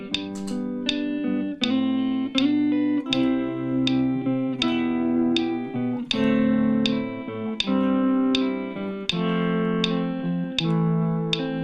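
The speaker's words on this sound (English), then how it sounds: "I'm just going to use the volume knob on this Strat here" Electric guitar played on a Stratocaster, each note faded in with the volume knob: slow, reverberant chord swells rise and sustain one after another over about twelve seconds, full and close with effects, no talking.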